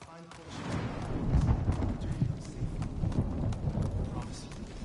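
A horse gallops in the video game Ghost of Tsushima, its steady rapid hoofbeats drumming throughout with a low rumble and a voice over them.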